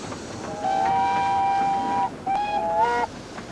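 A narrow-gauge tourist steam train on the Brecon Mountain Railway at Pant Station sounds its whistle in two sustained blasts, the second shorter, heard over a low background rumble.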